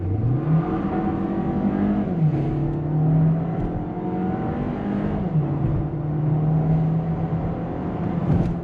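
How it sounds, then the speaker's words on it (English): A 2024 Volkswagen Taos SUV in sport mode with all-wheel drive launches hard, its engine revving loudly and climbing in pitch through gear changes, with tire spin at the start. The engine note stays close and steady throughout, with no talking. "Let's see how quick we accelerate"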